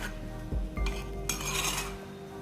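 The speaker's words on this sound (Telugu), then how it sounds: "సగ్గుబియ్యం అడుగున అంటుకోకుండా మంచిగా ఇలా కలుపుకుంటూ చేసుకోవాలి" A spoon scrapes and clinks against a cooking pot while stirring milk with sago, a few soft knocks and a longer swishing stir, close up with a steady low hum beneath.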